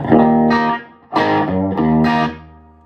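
An electric guitar plays a few sustained chords through a TopHat Rialto Reverb 1x12 amplifier, each ringing out with a spacious reverb tail between strums.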